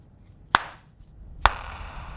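The hinge of a Samsung Z Flip 5 snaps shut twice, each a crisp, sharp clap heard up close in a quiet room, with just under a second between them.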